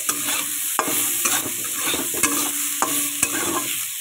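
Shrimp with helencha greens and a pinch of cumin powder sizzle steadily in a pan, with a constant frying hiss broken by periodic clanks of a spatula stirring against the metal.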